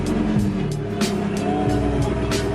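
A Nissan 240SX S13 with a swapped 1JZ VVTi engine and deleted J-pipe idles loud and raw, with a rough, throaty rumble and sharp revs blipping up over a steady drone.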